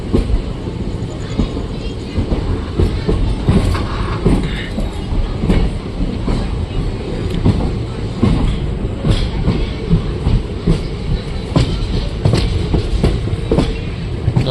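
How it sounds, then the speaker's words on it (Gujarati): A train rolls loudly and continuously through Dhasa railway station in Gujarat, with rhythmic wheel clatter over the tracks and a steady, heavy rumble throughout. "હવે ટ્રેન ઢસા પહોંચી ગઈ છે"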